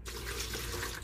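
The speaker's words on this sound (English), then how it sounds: "Then I will turn on the faucet to rinse" Faucet water runs steadily into a sink to rinse out a bedpan, a continuous close splashing rush that fills the whole moment without a break.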